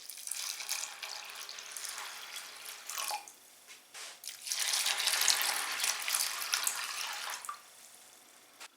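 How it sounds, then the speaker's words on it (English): Tap water pours in bursts into a container of soaking barley and wheat grains, a faint splashing stream with short pauses between pours, and no one talking. "now I just need to add water again"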